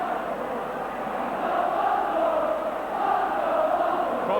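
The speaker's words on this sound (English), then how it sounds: "Probably hear the crowd below me shouting for Muddy McLeod to have a right go at this" Football crowd at a Celtic vs Aberdeen Scottish Premier Division match, a broad roar of massed voices with swelling shouts rising and falling over a few seconds, with no clear individual speech.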